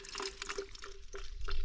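Mountain stream water trickles into a bottle in short gurgling, bubbling bursts that rise slightly in pitch as it fills, soft and close up outdoors on a fell.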